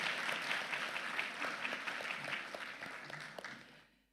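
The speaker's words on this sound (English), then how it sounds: "Let's give Minister Allen a round of applause." Ceremony audience applauding Minister Allen at the 23 ALPHA event: a full crowd clapping at a steady level that tapers and fades away toward the end.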